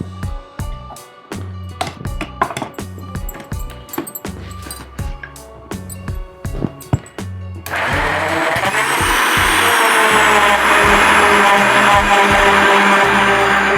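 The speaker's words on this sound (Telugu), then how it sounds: "మిక్సీ వేసుకుందాం" A mixer grinder starts up and churns fresh cream for making ghee, a loud steady whirring drone that runs without pause after a stretch of clicks and handling noises near the mic.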